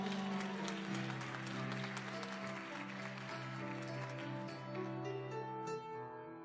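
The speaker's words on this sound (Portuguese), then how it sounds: "Você pode aplaudir ao Senhor Jesus?" A church congregation claps during a sermon on the Good Samaritan. Sustained keyboard or organ chords ring loudly over the soft, scattered clapping throughout.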